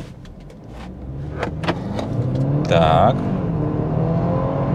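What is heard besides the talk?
BMW 320i xDrive G20 Stage 1 accelerating hard from standstill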